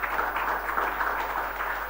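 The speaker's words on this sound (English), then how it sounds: "May we have a huge round of applause for Stephanos." An audience applauds a lecturer at an evening talk, a steady wash of many hands clapping at moderate distance with no voices over it.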